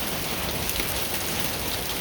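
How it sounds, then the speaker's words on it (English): Pea-sized hail comes down during a storm as a steady, dense clatter and hiss, close and even throughout, with no talking. "you'll never guess what started falling from the sky. Hail. It's hail."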